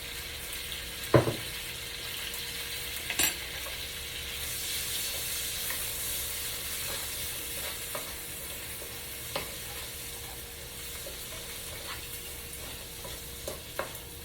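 Potatoes, purple onion and smoked sausage fry in a cast iron skillet, a steady close sizzle with occasional scraping stirs and clinks, no talking.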